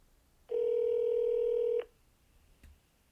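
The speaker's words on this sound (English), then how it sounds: "let's go ahead and make this call" Telephone tone as an AI voice call is placed: a single steady electronic beep lasting over a second in a quiet line, followed by a faint click.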